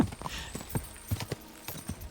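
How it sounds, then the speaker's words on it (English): A horse gallops in Kingdom Come: Deliverance 2, its hooves pounding in a quick, steady clip-clop rhythm at close range, with no talk over it. "I'm gonna speed past them on my horse."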